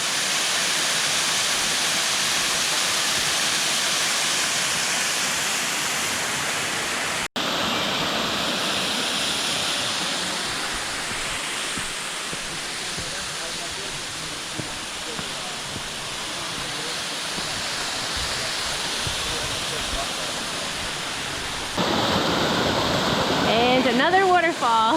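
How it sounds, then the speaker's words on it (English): A waterfall on the Franconia Ridge Trail in New Hampshire rushes with a steady, loud roar of broadband water noise throughout, with a hiker's voice briefly audible near the end. "We made it to our second waterfall."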